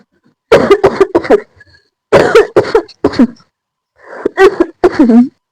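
Repeated harsh coughing fits come in three close bursts, loud and near, separated by short silences.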